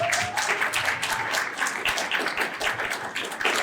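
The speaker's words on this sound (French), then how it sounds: "je pense qu'il faut les applaudir pour ça" A crowd at a left-wing municipal election rally applauds, a loud, continuous wash of many clapping hands with no break from start to finish.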